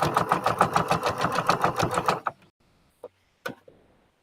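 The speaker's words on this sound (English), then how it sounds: "you get on the straightaway, and then you can sew a lot faster" Sewing machine stitching fabric at a fast, steady pace, its rapid rhythmic clatter running for about two seconds before stopping, followed by a few faint isolated clicks and taps in near silence.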